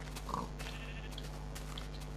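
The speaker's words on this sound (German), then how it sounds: "Ein Schaf, Schaf, Schaf, Schaf, Schaf, Schaf, Schaf!" Sheep bleating in the Minecraft video game, a short, clear bleat near the start over a steady background hum, followed by quieter game sounds.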